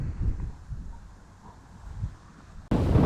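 Low, gusty wind buffeting the microphone in uneven rumbling surges outdoors while wild camping, ending with a louder burst of blustery noise.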